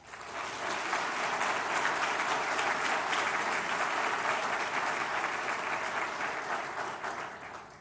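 An audience at a medical college White Coat ceremony claps steadily in welcome, dense sustained applause filling the room for several seconds before slowly tapering.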